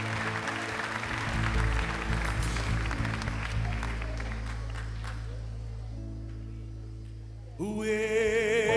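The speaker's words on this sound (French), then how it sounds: "Merci d'applaudir." An audience at a show with an orchestra applauds over a sustained low instrumental drone, the clapping thinning out gradually before music with a wavering tone enters near the end.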